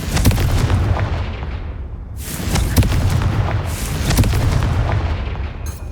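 Confringo spell blasts in Hogwarts Legacy go off as a series of booming explosions with sharp cracks, loud and repeated over a low rumbling background.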